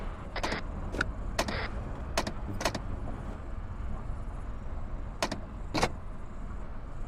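Vehicle driving in Arma 3, a steady engine and road rumble carrying on throughout, broken by several sharp clicks and rattles from the vehicle.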